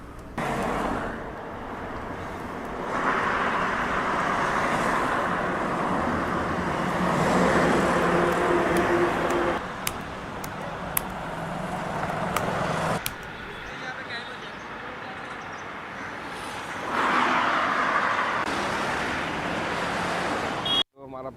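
Steady roar of highway traffic stuck in a jam in Kashmir, with continuous engine and road noise swelling and easing, and people talking over it.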